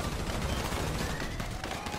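Gunfire in a casino heist video game: a dense, continuous barrage of shots over heavy, rumbling background noise, loud and unbroken throughout.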